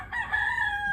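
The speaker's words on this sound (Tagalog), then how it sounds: "May manok silang alaga dito sa kapitbahay ko." A neighbour's pet rooster crows once at a middle distance, a single drawn-out call over quiet outdoor background with no talk.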